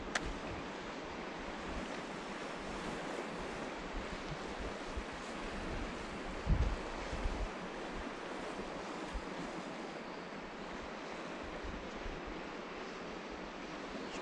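Rough sea waves wash against the Northumberland coast shore in a continuous loud roar of surf mixed with wind noise, and a brief thump comes near the middle.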